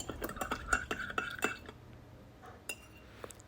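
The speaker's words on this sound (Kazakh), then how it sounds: "жақсылап араластырамыз" An egg is stirred into salted water in a bowl, with quick clinking taps of a utensil against the side in a brisk rhythm that fades to a few scattered clinks, close and fairly quiet.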